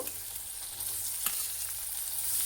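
Boiled pasta being stirred with scrambled eggs in a hot pan, a constant bright frying hiss with one soft utensil scrape midway, close and without voices.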